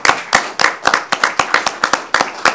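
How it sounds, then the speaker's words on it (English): A small group at a committee work session gives a round of applause, a few pairs of hands clapping briskly and unevenly, close and loud, with no talking. "you deserve at least one round of applause, maybe one at the end as well"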